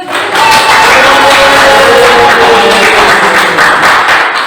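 Classroom applause during a lesson, a dense steady wash of many hands clapping together at close range, loud and sustained throughout with faint voices mixed in.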